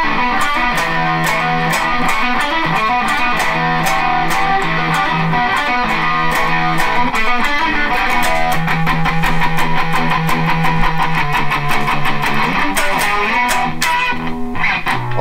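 Gibson SG Tribute electric guitar played through a Marshall amp with a distorted tone, a loud, continuous run of heavy riffing with sustained chords and rhythmic picked notes throughout, no talking.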